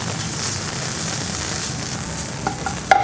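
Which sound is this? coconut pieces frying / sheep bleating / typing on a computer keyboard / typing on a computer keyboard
coconut pieces frying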